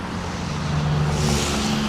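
Cars passing on a busy city road where pedestrians cross, a steady broad traffic rumble with a low engine drone swelling midway as a vehicle goes by fairly close.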